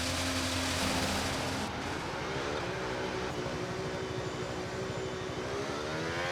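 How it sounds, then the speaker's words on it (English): A Formula 1 race car engine in F1 26 fires up, a loud rough whirring roar that settles into a steady buzzing idle with shifting tone, alone without talk. "that car sounds awful starting up"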